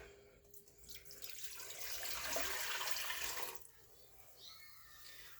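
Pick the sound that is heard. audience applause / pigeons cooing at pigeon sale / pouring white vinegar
pouring white vinegar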